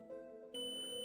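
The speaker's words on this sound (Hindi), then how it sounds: "देखिए बीप दे रहे हैं।" A multimeter on continuity test mode, probing a Bluetooth amplifier's speaker terminals, gives a steady electronic beep that jumps to a brighter, louder tone halfway through and holds it to the end.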